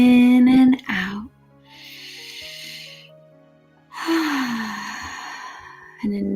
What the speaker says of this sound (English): And another nice deep breath in and exhale